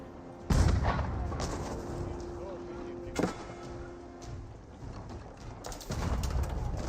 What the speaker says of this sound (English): we got the French cannon on the field